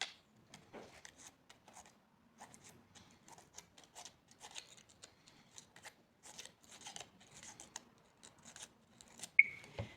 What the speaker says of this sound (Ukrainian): листочок мімози він подрібнений, тому беремо ножицями і надрізаємо його